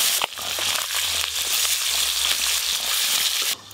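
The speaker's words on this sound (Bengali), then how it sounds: "একইভাবে মাছগুলো লাল লাল করে ভেজে নিই।" Tangra fish frying in oil for a spicy fish curry, a steady loud sizzle and crackle that carries on without pause, with a low hum underneath, then drops off sharply near the end.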